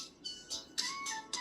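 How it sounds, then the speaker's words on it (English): A mobile phone ringtone chiming in a quiet room, a short series of bright, repeated electronic tones played at moderate volume with no talk. "of course I get a phone call."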